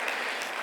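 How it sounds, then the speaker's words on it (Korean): Applause from a church congregation during a Sunday service, a dense, steady wash of many hands clapping throughout at an even level with no talk on top. "우리 박수 한번 부탁드립니다"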